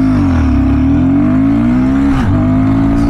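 A Royal Enfield Guerrilla 450 motorcycle pulls hard under full throttle, its engine note rising steadily, then dipping sharply at a gear change before climbing again, loud and close with strong wind rush.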